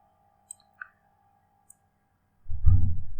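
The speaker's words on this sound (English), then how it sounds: "So make a right click on the start menu, then click on device manager." Three sharp, isolated computer mouse clicks on a Windows 10 PC, spaced over a couple of seconds, close and fairly quiet, followed by a louder low thump near the end.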